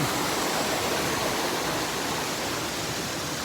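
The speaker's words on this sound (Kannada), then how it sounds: "ಇಲ್ಲಿ ಒಂದು ಫಾಲ್ಸ್ ಕಾಣಿಸ್ತು ಫಾಲ್ಸ್ ನಾನು ತೋರಿಸ್ಬಿಡ್ತೀನಿ" A constant, dense rush of falling water, a waterfall near the Vaishno Devi temple route in Katra, Jammu and Kashmir, roaring steadily and evenly without any breaks.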